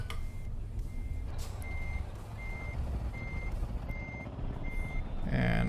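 A Scania truck in Euro Truck Simulator 2 reverses in a cluttered yard, its backup alarm beeping at a steady even rhythm, about seven clear beeps over a loud low engine rumble.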